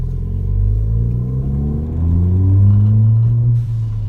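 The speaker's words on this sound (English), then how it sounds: "get it up going down the road, and you can hear the cans rattling now in their corner" A car's aftermarket exhaust cans rattle as it drives down a road, heard from inside as a steady low engine rumble that rises and holds while cruising.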